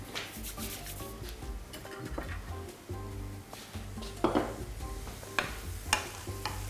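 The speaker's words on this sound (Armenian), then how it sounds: "Եվ կարագով տապակում ենք ալյուր։" Flour frying in butter in a small pot for béchamel sauce, a soft sizzle under repeated stirring and scraping with occasional light knocks of a utensil, no talk.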